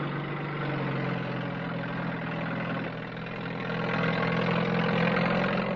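A heavy lorry or tractor engine runs steadily at low revs, a continuous droning rumble with a slight rise in loudness toward the end.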